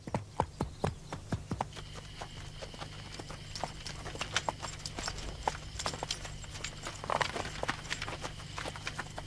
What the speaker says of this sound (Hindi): घोड़ा रोको